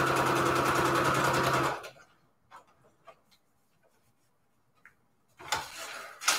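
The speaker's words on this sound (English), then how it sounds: "I got a similar sewing machine yesterday," A Brother SQ9285 sewing machine runs in a fast, even burst while stitching fabric, then stops; soft clicks and handling noises follow before the machine starts stitching again.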